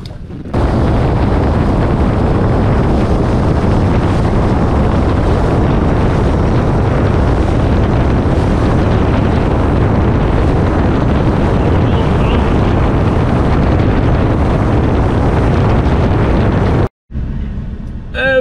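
A motorboat running across open water on a striped bass fishing trip, a loud continuous engine-and-hull roar blended with heavy wind buffeting the microphone, steady throughout before cutting out abruptly near the end.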